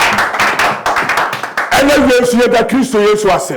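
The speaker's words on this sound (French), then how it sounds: "Acclamez pour Jésus." Congregation clapping in a church service, a dense run of hand claps that comes up strongly in the second half under a loud voice leading the worship and singing.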